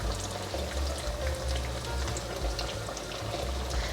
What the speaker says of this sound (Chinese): 继续让它炸。